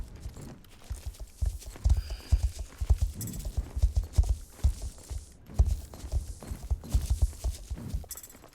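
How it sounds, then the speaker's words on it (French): Wild horses clip-clopping in a video game, hooves thudding in a steady uneven rhythm across the whole stretch, fairly close, with occasional faint ambient tones and no talk. "des chevaux sauvages."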